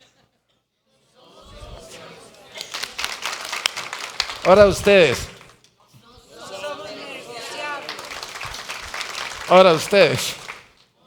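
A church congregation bursts into applause twice, each round of clapping rising briefly over a speaker's voice and crowd murmur in a large room.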